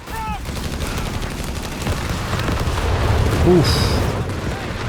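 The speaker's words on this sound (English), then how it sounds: "Officer artillery getting a big hit there" Officer artillery strikes in Company of Heroes 3, a dense rumble of booms and gunfire building to a heavier swell, with someone talking over it.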